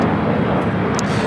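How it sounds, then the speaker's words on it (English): A Boeing 787-10 Dreamliner, United Airlines heavy jet arriving from Tokyo Haneda at Los Angeles LAX, gives a steady broadband engine roar that stays loud and even throughout, with no voices. "the 787-10 Dreamliner coming from Tokyo Haneda. Our next heavy arrival here on the south side"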